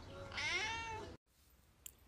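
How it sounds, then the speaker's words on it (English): A cat gives one clear, drawn-out meow up close, about a second long, and then it cuts to near silence with a faint click. "Cat."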